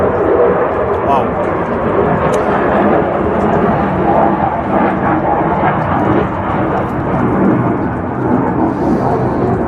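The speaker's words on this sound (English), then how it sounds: "You can hear the F-16s right above me flying right now." F-16 fighter jets fly overhead above a besieged palace in Israel, making a steady, loud, broadband roar that rumbles without a break for the whole stretch.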